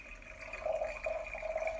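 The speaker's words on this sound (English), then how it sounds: "Ever think about listen the sound of the water while in the bathroom?" Water trickles and drips steadily in a bathroom, a thin continuous ringing stream with small irregular splashes, close and fairly quiet, with no voices.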